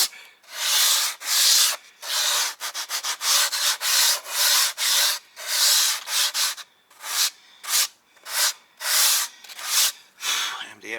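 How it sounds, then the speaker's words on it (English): Cut edges of an MDF sheet being sanded by hand in repeated rhythmic rubbing strokes, a bright scratchy hiss in quick bursts with short pauses, close and fairly quiet. "Let's clean up the edges after cutting it."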